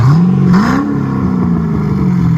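A 2005 Chevy Corvette 6.0L V8 with dual exhaust and Carven R Series mufflers revs up loudly close by, its deep exhaust rumble rising in pitch and then holding a steady growl.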